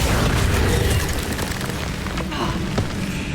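Confringo spell blasts in Hogwarts Legacy: a steady wall of loud, rumbling explosive noise with crackling pops, a couple of sharper bursts near the end, and no clear pauses.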